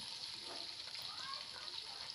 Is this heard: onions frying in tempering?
yes